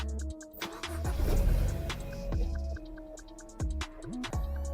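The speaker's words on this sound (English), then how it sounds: "And now when you start the car" A BMW engine cranks and catches, settling into a steady idle with a few electronic chimes and clicks from the dashboard nearby as the airbag warning light goes off.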